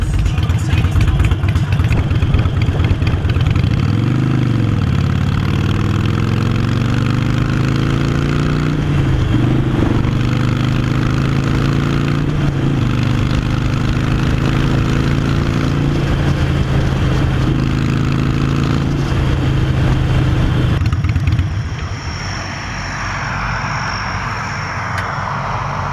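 Harley-Davidson Iron 883 motorcycle with a new aftermarket exhaust, a loud, deep steady rumble held close for about twenty seconds with a couple of throttle blips, then cut off abruptly to leave quieter background sound.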